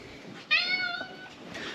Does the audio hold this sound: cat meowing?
yes